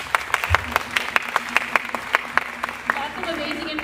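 Scattered claps ring out at a ribbon cutting for an avionics program as the crowd applauds its speakers, sparse and rhythmic with hall reverb, with voices present throughout.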